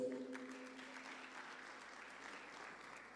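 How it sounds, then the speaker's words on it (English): Applause from a conference audience at Sun City Resort, a soft, distant, steady roar of many hands that fades slightly toward the end, with a brief tonal hum at the start. "Can we give him a round of applause?"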